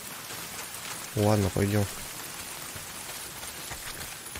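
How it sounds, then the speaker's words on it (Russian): Heavy rain pours down in the video game Days Gone as a steady, dense hiss. A voice cuts in briefly over the downpour. "Дождь хлещет."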